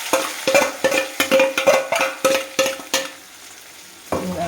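Homemade star fruit pickle stirred in a pan with oil, asafoetida, garlic and curry leaves, the spoon scraping in a quick rhythm of short strokes over a soft sizzle, close and clear, then pausing near the end.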